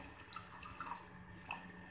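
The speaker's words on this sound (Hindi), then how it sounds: "थोड़ा सा पानी डालेंगे" Water trickles from a tap into a kitchen pan of sugar for homemade condensed milk, a faint, steady splashing pour with light drips, short and quiet.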